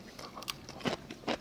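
Crunchy radish kimchi bitten at a Korean restaurant, three or four sharp, close crunches spaced about half a second apart, with no talking.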